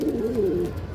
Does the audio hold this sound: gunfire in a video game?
no